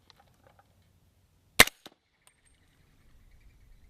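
A single sharp report from a 300 Blackout subsonic round fired out of a short-barreled rifle, a loud broadband crack followed by a brief echo, alone in an otherwise quiet outdoor setting.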